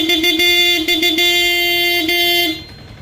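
A loud, steady motorcycle horn wired through a relay blares almost continuously for over two seconds with a few quick breaks, then cuts off abruptly, close by.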